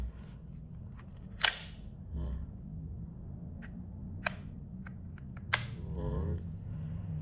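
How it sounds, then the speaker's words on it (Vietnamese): The slide of a Glock 19 rubber-bullet replica pistol is racked close by, giving three sharp, loud metallic clacks with lighter ticks and handling clicks between them. "Đấy, anh em lên đạn này."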